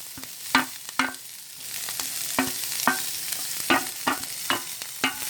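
Chopped onions, chili and garlic frying in a pan for a grated carrot stir-fry, a steady close sizzle broken by repeated sharp scrapes and clacks of a spoon stirring, with no voices.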